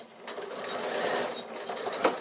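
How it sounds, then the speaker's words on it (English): A sewing machine runs steadily as it stitches the side seam of a piped fabric bag with right sides together, a close, continuous mechanical whir with slight rhythmic variation, heard alone. "So what I'm going to do is just start that stitching there, right sides together"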